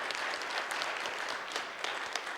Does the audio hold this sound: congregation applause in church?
yes